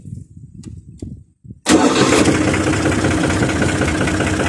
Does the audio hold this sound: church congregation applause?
no